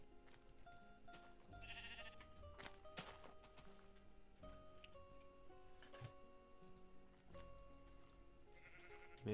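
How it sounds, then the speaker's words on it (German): Sheep in Minecraft bleat in a few short, separate calls against a quiet backdrop with faint ticking game sounds. "Mehr Schafe, wobei ich fast glaube, dass das dieselben sind."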